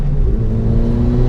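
Ford Fiesta ST hatchback accelerating at half throttle, a loud, close, steady engine drone with a deep rumble and a faintly rising tone through the whole stretch.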